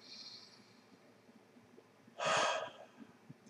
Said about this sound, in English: And you take a couple deep breaths